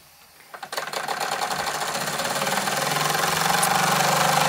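A Wilesco D22 toy steam engine with two double-acting cylinders starts by itself, its rapid chuffing beat quickly settling into an even, fast rhythm that grows gradually louder and steadier, close by and without talk.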